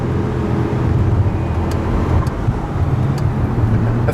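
Loud, close engine roar of an 800 HP Infinitas Hurricane RR with a Bi-Kompressor V10 as it accelerates through an overtake, a steady powerful drone under road and wind noise.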